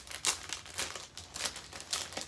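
Quiet, close crinkling and snipping as pieces are cut from a Chalk Couture transfer sheet, a steady run of soft plastic-film rustles with several brighter bursts and no talk.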